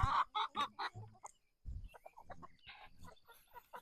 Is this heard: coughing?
no